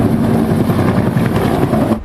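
Steady, loud rotor and engine roar of a police helicopter passing low and close overhead, continuous throughout with no voices.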